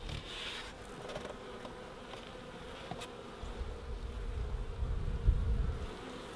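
Honeybees buzz steadily around an opened hive being taken apart for combining with other colonies, a continuous close insect drone with a lower rumble swelling near the end.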